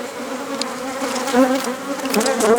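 Honey bees buzzing around hive frames during a check of mite-treatment strips, a dense, close, continuous hum with a wavering pitch and no talking.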